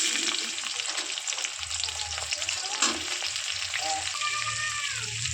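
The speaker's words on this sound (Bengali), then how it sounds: "এইটা আমি ব্রেস্তার জন্য ভেজে নেব ব্রাউন কালার করে ভাজবো" Chopped onions fry in hot oil in a wok for biryani birista, a steady close sizzle with occasional stirring scrapes and a brief hiss near the end.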